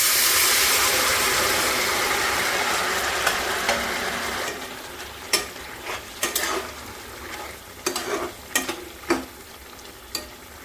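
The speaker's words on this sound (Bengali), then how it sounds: "গরম জল ঢেলে দেব।" Hot water poured into a sizzling vegetable curry sends up a loud burst of hissing steam that gradually fades, followed by scattered clinks and scrapes of a spoon stirring in the pot.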